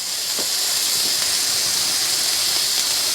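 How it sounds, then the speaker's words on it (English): A tri-tip roast sears on a hot surface, a loud continuous hiss with faint crackles scattered through it, no voices. "Have you ever seen so much gorgeous searing meat?"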